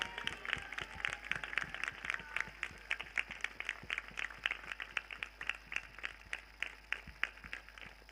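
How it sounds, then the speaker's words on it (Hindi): A church congregation at a prophetic prayer service claps hands in praise, a steady stream of dense, overlapping claps throughout with a faint crowd murmur beneath. "आधे लोग ताली बजाकर प्रभु को महिमा दे रहे हैं"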